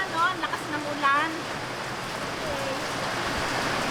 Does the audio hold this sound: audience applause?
no